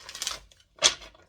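A deck of tarot cards is shuffled in two quick, crisp papery bursts separated by a short pause, close and fairly soft, with no voices.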